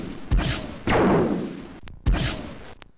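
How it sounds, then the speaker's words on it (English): Missiles launched in the 1994 X-COM video game: two heavy thuds, each followed by a loud whooshing roar, separated by brief near-silence. "Fire the missiles!"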